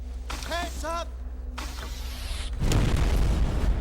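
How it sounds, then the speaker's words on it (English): A loud explosion in a GameCube video game, a sudden heavy rumbling burst that comes in over a low background drone after a short stretch of in-game voice and sound effects, then holds as a broad roar. "That was a fucking loud explosion."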